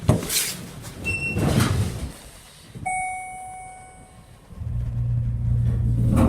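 A Schindler 300A hydraulic elevator door slides shut in a decommissioned shaft, a low rumbling slide with a steady hum and a brief chime, fairly close and without talk.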